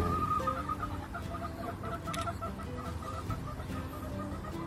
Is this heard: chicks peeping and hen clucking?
yes